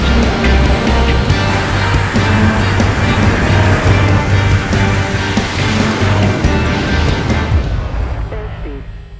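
Turkish Stars aerobatic jet aircraft taking off in Malatya for a display flight: a loud, continuous broadband engine roar with steady low rumble, sustained throughout and easing slightly at the end.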